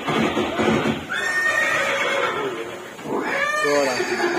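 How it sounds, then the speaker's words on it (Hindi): A horse neighs in a museum light and sound show at Haldighati about Maharana Pratap and his warhorse, two loud whinnies a couple of seconds apart over a noisy background. "महाराणा प्रताप और सुविख्यात स्वामी भक्त घोड़े चेतक के अंतिम मिलन का है"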